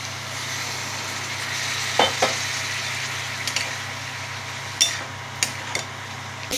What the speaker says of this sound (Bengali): আমি চিংড়ি মাছটা যে সেদ্ধ করে রেখেছিলাম তার জলটা দিচ্ছি আমি